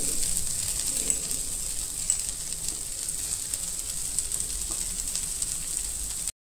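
Leftover rice tipped into a sizzling Chinese fried rice mixture in a pan, with a steady bright frying hiss running throughout, close and even, and a few faint stirring touches before it cuts off abruptly.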